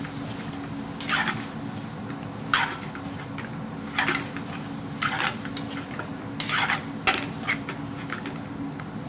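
Spices and turmeric powder being stirred in a metal cooking pot, a spoon scraping and clinking against the sides in repeated strokes, fairly close, over a steady background hum.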